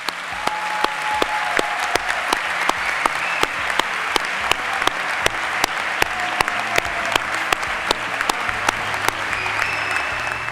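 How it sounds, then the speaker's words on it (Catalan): Graduating students at a university diploma ceremony applauding their families, a long, loud round of clapping from a large hall crowd with sharp individual claps standing out, steady throughout. "aplaudiment d'agraïment"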